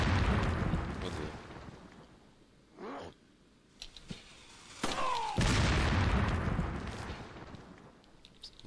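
Booming explosions and gunshots from Resident Evil 4 HD arrive in several sharp, loud bursts separated by quieter gaps, with a player's voice occasionally heard between them.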